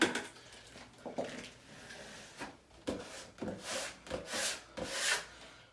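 Freshly glued wallpaper being smoothed onto a wall with a tool, giving repeated soft swishing rubs and scrapes in uneven strokes, close and fairly quiet.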